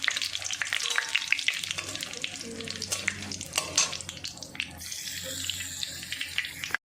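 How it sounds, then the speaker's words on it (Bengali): Dried red chillies and bay leaf sizzle and crackle in hot tempering oil for a home-style country chicken curry, a steady close frying hiss with occasional stirring clatter. "শুকনো লঙ্কা দিয়ে দেবো ফোড়নে।"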